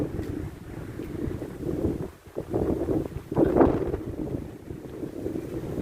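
Strong wind on a hilltop buffets the microphone in uneven gusts, a low roaring rush that dips briefly and surges again.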